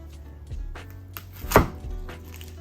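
A knife cutting an onion into wedges on a board: a few soft cuts followed by one sharp, close chop, with quiet room noise around them and no talking.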